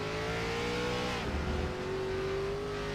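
An ARCA race car in the iRacing simulator holds a steady engine drone, then briefly drops in pitch as it downshifts under braking and settles into a lower gear. The sound is loud and close, with no talking.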